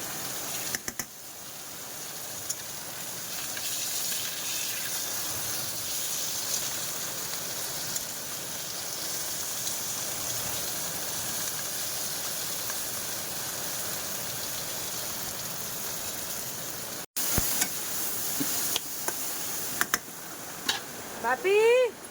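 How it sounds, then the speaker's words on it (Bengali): Fish frying under a lid in a pan gives a steady, moderately loud sizzle and hiss that runs continuously, with a brief break and a few clinks and bright squeaks near the end. "আর এই মাছ ভাজতে গেলে খুব ভয় করে, ঢেকে ঢেকে ভাজছি"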